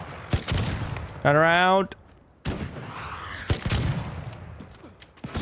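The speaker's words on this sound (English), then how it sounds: "Someone else is shooting it." Loud, close gunshots and heavy impacts from an ARC Raiders firefight, sharp cracks scattered through the clip with a short whining electronic tone, while a player talks briefly.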